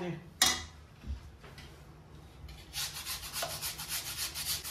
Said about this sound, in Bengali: এটার মধ্যে আমি এবার গুড়টা গ্রেট করে দেবো